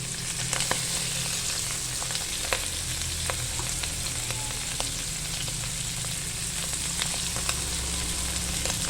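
Mushroom and chili fry in a pan with a dense, steady sizzle dotted by constant small pops and crackles, close and continuous with no voices.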